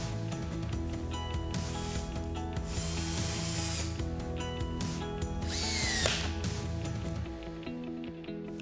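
A ratchet wrench tightens a bolt on a Husky 7000 HD coupling band, making a continuous clicking, ratcheting mechanical sound close by, with brief metallic scrapes layered over a constant background hum.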